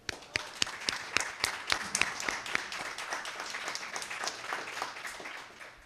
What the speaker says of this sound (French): Vous méritez d'ailleurs une bonne main d'applaudissements.